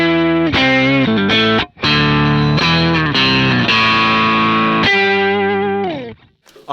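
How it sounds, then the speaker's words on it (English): Guitar run through a Kemper octave effect with heavy vibrato, giving thick, distorted, harmonically dense sustained notes that waver and glide, played alone in phrases with a brief gap near the middle and a fade at the end. "Octave effect with a very strong vibrato like you heard in the beginning."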